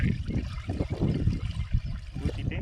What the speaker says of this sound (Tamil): இதில் ஊற்றிட்டு வெள்ளை கரைசலையும் அதில் ஊற்றிடணும்.